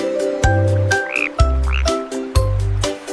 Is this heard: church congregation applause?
no